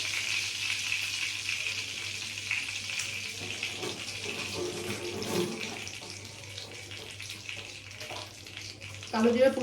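Ridge gourd fries in mustard oil tempered with nigella seeds, giving a steady close hiss throughout, with low talk now and then.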